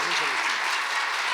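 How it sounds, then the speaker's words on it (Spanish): Dense, steady applause from an audience at a children's talent congress in Arequipa, filling the whole short moment at even loudness. "Nuevamente un aplauso bien merecido"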